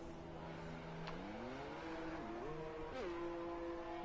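A racing car engine in a racing video game drones steadily as the car leaves the pits, its pitch stepping up through gear changes, moderately loud and alone without talk.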